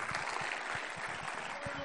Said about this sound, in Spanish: Coca, fuerte el aplauso.